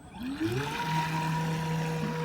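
CarpMaster fishing bait boat with a Falcon 3542 motor at full throttle on the water, a rising electric whine settling into a steady high-pitched drone close by.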